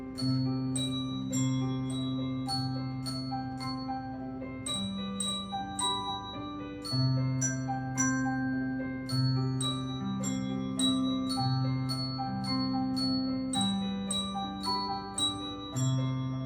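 A set of handbells plays a simple melody during a live music-theory game show session, with clear struck notes ringing out one after another in a steady rhythm and a sustained lower accompaniment. The playing continues for over sixteen seconds without talk.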